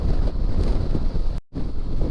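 Strong wind by the Agos River, a loud continuous gusty roar buffeting the microphone, briefly cutting out for an instant before resuming.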